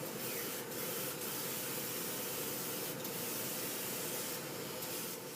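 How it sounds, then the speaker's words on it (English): Steady, continuous hiss of a paint spray gun, close and even, with brief pauses in the flow. "I'm spraying it so it's not getting too wet."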